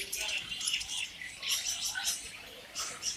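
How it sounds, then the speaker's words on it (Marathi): Lovebird chicks at a crowded Mumbai pet market chirp in high, thin bursts that are steady and fairly close, with a busy background murmur. "ये बघा लोवरची पिल्लं आहे तिकडे"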